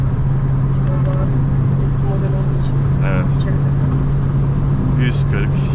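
A 2005 Opel Astra G Classic with a 1.6 Ecotec engine drones loudly and steadily while driving, a constant low hum filling the cabin with brief faint rattles and squeaks on top.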